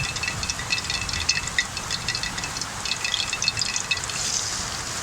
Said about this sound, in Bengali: তেলটা গরম হয়ে গেছে, এখন দিয়ে দেবো পেঁয়াজ কুচি।